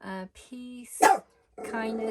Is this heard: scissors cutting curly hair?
no